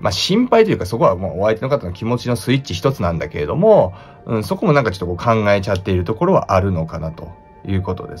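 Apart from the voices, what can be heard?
No distinct noise like a dog, phone or traffic.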